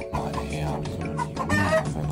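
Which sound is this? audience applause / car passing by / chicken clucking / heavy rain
chicken clucking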